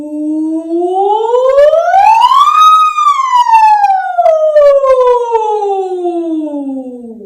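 A singer imitates a siren with the voice on an O vowel, gliding smoothly upward to a high peak and then sliding slowly back down, loud and clear with no other sounds.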